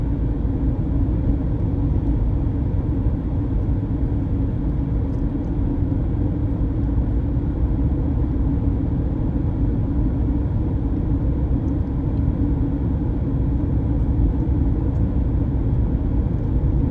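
Steady roadway traffic near Las Vegas and Mora, New Mexico, a continuous low rumble of cars passing by, fairly loud and unbroken with no voices.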